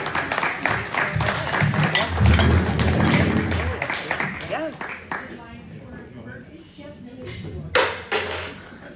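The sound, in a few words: audience applause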